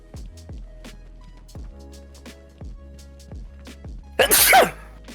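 A single loud sneeze bursts out near the end, over quiet background game audio with rhythmic low thumps during the Batman: Arkham Asylum playthrough.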